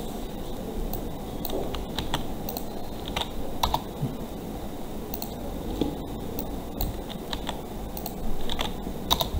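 Computer keyboard typing with pasted text and Enter presses, a close, steady patter of plastic key clicks with occasional sharper, louder strokes over a constant low background hum, no speech.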